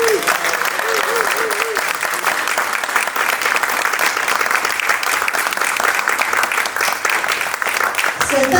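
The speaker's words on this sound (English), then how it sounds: "I'd like to give a big round of applause" An audience at an evening ghazal concert at the Peepul Centre applauds, a dense, sustained clapping that keeps a steady level for several seconds, with a brief musical tone at the start and the end.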